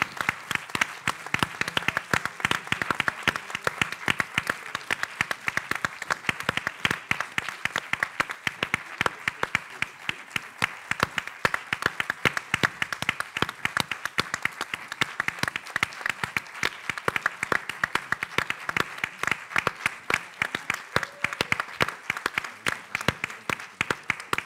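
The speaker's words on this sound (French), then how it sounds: "Je vous propose qu'on les applaudisse." Sustained audience applause, a long, even stretch of many hands clapping at moderate volume, crisp and continuous with no voices standing out.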